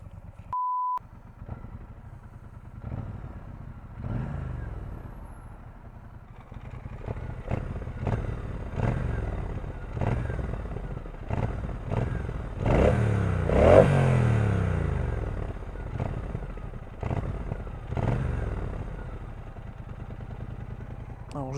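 Brixton Cromwell 1200 motorcycle engine running, with repeated throttle blips rising and falling over a steady idle, close and moderately loud, after a short beep at the start.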